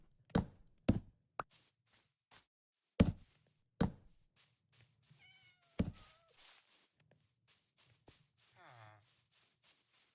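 Cats in Minecraft give a few short meows amid sharp blocky thumps and knocks, with faint talking in the background, all fairly quiet and spread out.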